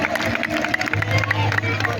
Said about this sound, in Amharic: እልልታ ጭብጨባ ይገባዋል።